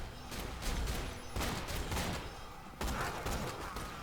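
Rapid gunfire from the Hawkeye weapon in Borderlands 2, a dense stream of shots in quick bursts with brief gaps, loud and continuous throughout.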